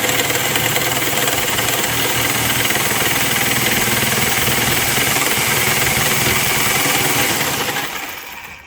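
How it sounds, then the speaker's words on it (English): A saw fitted with a DeWalt 18 TPI bimetal blade cuts through a steel hatchet head, a steady loud buzzing grind that runs continuously for several seconds before tapering off as the cut stops. "the first blade that I'm going to use is a DeWalt 18 teeth per inch bimetal blade"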